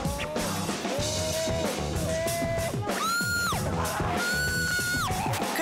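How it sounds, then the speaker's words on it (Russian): Several people scream and yell continuously on amusement rides in Las Vegas, with rising and falling shrieks layered over a rumbling background. "послушав вопли катающихся, желание немножечко утихает"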